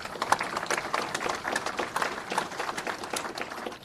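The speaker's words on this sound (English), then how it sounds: "I just want to give you all, the advocates, the researchers, the elected officials, a round of applause for your advocacy on this issue" Audience applause at a governor's press conference on the minimum wage: steady, dense clapping from a crowd, holding at an even level for a few seconds with no break.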